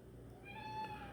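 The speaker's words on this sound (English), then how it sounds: "Meow." A single soft cat meow, faint and drawn out, heard indoors against a quiet room background.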